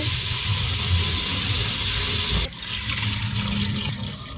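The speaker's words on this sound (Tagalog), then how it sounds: "At pwede na natin siyang lagyan ng tubig para sa ating sabaw." Water poured into a pot of sautéed pork adobo to make broth, a loud steady rushing hiss that stops abruptly partway through and leaves a quieter, lingering simmer.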